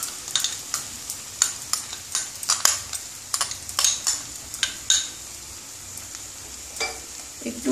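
A yogurt mixture added to spices in a pan for a Bengali vegetarian yogurt cauliflower dish, giving a sizzle while a utensil stirs and clinks against the pan in repeated sharp scrapes.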